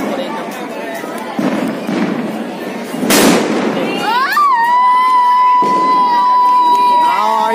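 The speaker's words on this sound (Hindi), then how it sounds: "लास्ट बम ये फोड़ रहा है" A Diwali firecracker bomb bursts in one sharp bang midway, amid crowd noise and shouting children, followed by whistling rockets and fireworks; people talk throughout.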